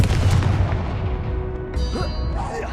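Confringo explosion spell cast in the Hogwarts Legacy video game, a loud booming blast with dense rumbling decay over about three seconds, followed by fainter crackling effects.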